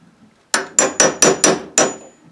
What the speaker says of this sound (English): I'm going to take my nail gun and depress, push down a little bit to trigger the nail.